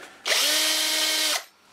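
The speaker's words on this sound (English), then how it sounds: "we've also put the drill on a slow speed, which is number 1" A power drill set to slow speed and low torque runs for about a second, a steady whirring whine that starts and stops abruptly, close and loud with no talk.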